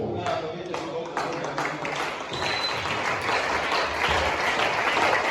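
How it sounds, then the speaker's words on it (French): Applause and cheering rise through a church gathering, with a continuous dense crowd wash, louder toward the end, and voices mixed in throughout. "Moi je vais acclamer pour vous."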